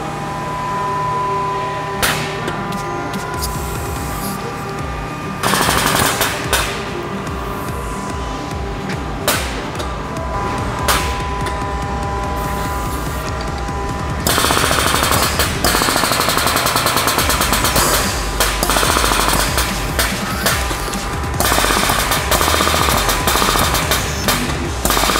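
A hydraulic barrel lift assist with a rotary actuator and gripping jaws hums and rattles loudly and continuously as it picks up a barrel and tips product into another barrel, with clanks and shifts in pitch along the way.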